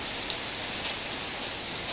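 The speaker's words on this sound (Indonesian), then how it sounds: "aku dari sini hanya melaporkan saja bagaimana suasana hujan di kotaku di Pematang Siantar" Steady afternoon rain pours down in Pematang Siantar, a continuous dense hiss of drops on surfaces with no voices, even and unbroken throughout.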